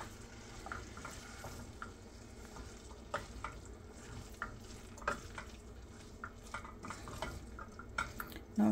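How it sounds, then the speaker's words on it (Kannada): Cabbage curry being stirred with lemon juice in a pan on a switched-off stove, giving repeated scrapes and taps of a spoon against the pan over a faint residual sizzle. "add the lemon juice, then mix ಮಾಡಬೇಕೀಗ."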